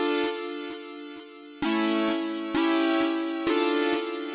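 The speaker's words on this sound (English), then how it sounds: "I have another lead, a synth lead" A synth lead for a song's hook plays sustained, harmonically rich notes in a stepwise phrase with rhythmic pulses under each note, heard alone and fairly loud.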